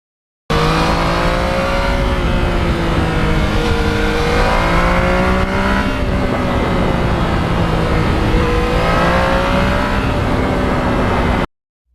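Yamaha MT-09 naked motorcycle ridden on quiet back roads, its engine note loud and close, rising and falling in pitch through gear changes and throttle shifts, with constant wind rush and no talk.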